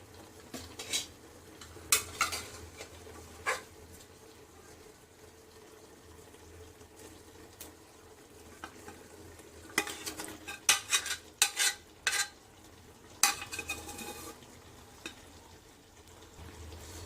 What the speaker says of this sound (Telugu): ఇప్పుడు మనము ఉడవబెట్టుకున్న మటన్ ఇందులో వేసుకొని ఒకసారి ఫ్రై చేసుకోవాలి